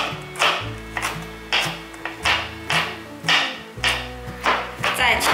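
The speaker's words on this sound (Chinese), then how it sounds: "再切成姜末" A knife chops ginger into mince on a cutting board with about nine sharp, evenly spaced taps over a background of faint ringing tones.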